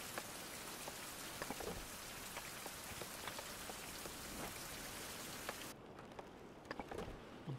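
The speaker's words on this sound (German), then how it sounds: "Mann, der Regen ist aber heute wieder, ne?" Rain falls in the survival video game Fountain of Youth, a dense steady patter with scattered louder drops, continuous and fairly close, easing slightly toward the end.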